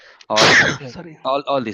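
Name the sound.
sneeze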